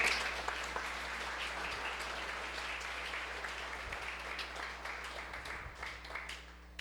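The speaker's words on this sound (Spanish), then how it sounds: "Denle un aplauso al Señor." Congregation applauding during a Spanish-language Christian sermon, a sustained, even wash of many hands clapping, heard at a distance and fairly soft, with a steady low hum beneath and the clapping thinning toward the end.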